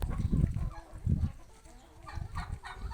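Roosters offered for sale alongside turkeys, with a few close, short clucks and crowing calls in bursts.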